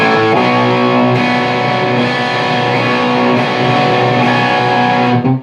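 Loud distorted electric guitar chords from a song ring out and sustain, blending together over a few strums before cutting off abruptly at the end.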